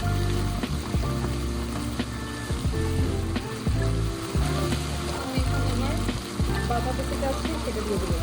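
Chicken samosa filling with cabbage sizzles and crackles in a hot pan as ground spices are stirred in, with steady frying and repeated scraping stirs throughout.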